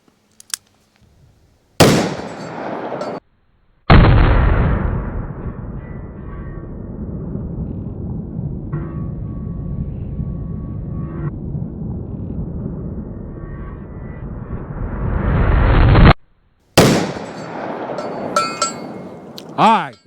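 Sharp, loud reports from a Taurus model 327 revolver chambered in .327 Federal Magnum, fired at an outdoor range. A few cracks stand out at the start and end around a long stretch of harsh, sustained noise.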